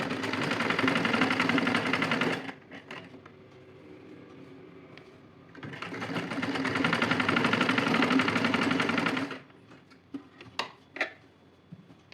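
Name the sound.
sewing machine stitching a blouse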